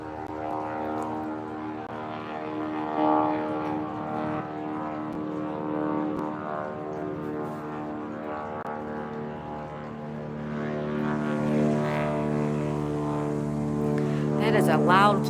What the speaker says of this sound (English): Oh no, another plane,